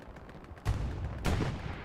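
MG42 machine gun fire rings out in the Hell Let Loose game on a Utah Beach map, two dull, distant bursts about half a second apart over a low rumbling battlefield background.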